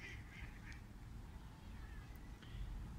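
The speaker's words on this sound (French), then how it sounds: "Des canards." Ducks quack faintly in the distance beside the start of the Canal de Castilla in Palencia, a few scattered calls over steady low outdoor rumble.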